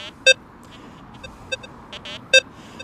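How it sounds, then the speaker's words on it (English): A Rutus Versa metal detector emits short electronic beeps as its coil sweeps past a nail and onto a target, two loud tones with fainter blips between over low background noise. "the coil has cleared the nail when the detector sounds off"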